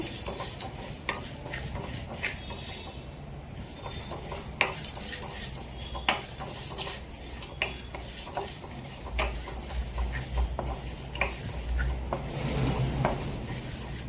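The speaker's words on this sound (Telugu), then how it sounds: "దీన్ని ఇప్పుడు మనం దోరగా వేయించుకుందామండి" Lentils being fried in a pan for pumpkin curry, repeated metal spoon scrapes and clinks against the pan over a light sizzle, close and rhythmic, with no speech.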